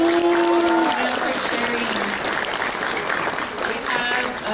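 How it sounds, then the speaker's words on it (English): An audience at a poetry slam breaks into applause, a loud sustained wash of clapping that holds steady before slowly thinning. "Another round of applause for Jalen."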